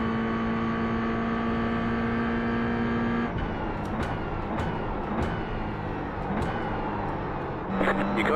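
Mazda MX-5 race cars in the iRacing game on the Virginia circuit, a sustained droning engine tone with shifting pitch and a few sharp clicks, steady and close, under a voice talking.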